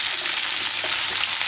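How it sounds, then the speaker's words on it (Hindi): Cumin seeds crackling in hot oil, a dense continuous hiss with fine popping, fairly loud and close, no voices. "हमारा जीरा भी वहाँ पे क्रैकल होने लग गया है।"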